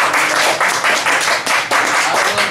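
An audience gives a performer hearty applause after an autumn song at a community music gathering. Dense, steady clapping fills the whole moment at even loudness with no one speaking.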